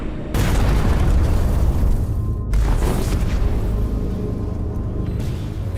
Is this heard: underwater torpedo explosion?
yes